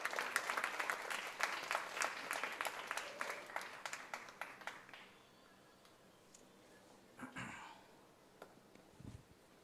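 Audience members clap for Father Varghese of the Orthodox Church at a gathering attended by the state governor, a few seconds of moderate, fairly quiet applause that fades out, followed by faint scattered sounds.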